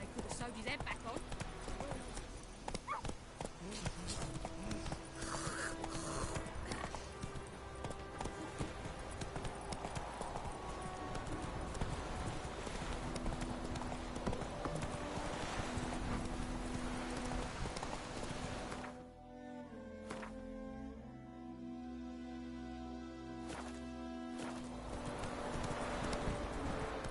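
Roach the horse trots in The Witcher 3, hooves clip-clopping in a steady rhythm with a brief lull near the end, while voices speak over the hoofbeats.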